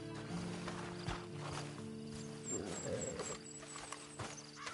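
A horse in the video game Red Dead Redemption, with hoof clip-clops and a brief whinny over a steady game background hum and music.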